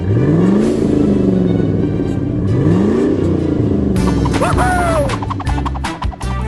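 A monster truck drives and revs on a lonely road at night, loud engine surges rising and falling in pitch, then a burst of crashing and banging with a squealing whine toward the end.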